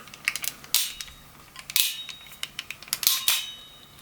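Sharp plastic clicks and snaps in irregular clusters, close up, as a Transformers G1 Turbomasters Thunderclash toy's parts are folded and locked into place, with no voices.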